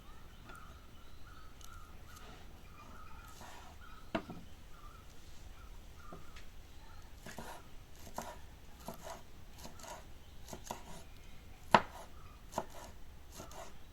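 Vegetables are chopped on a board in faint, scattered knife taps, irregular and soft, with a couple of sharper strikes and no voices.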